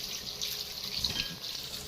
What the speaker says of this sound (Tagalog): hugasan natin muna itong kamatis